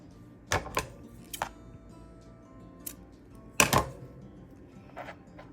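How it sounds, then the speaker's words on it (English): Beading string being snipped while making a bubblegum bead keychain, a few sharp close clicks and snips spaced out over quiet, with one louder double snip near the end. "Let me cut this real quick."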